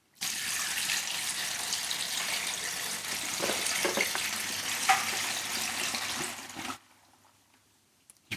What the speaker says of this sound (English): All right, we'll pour in the water.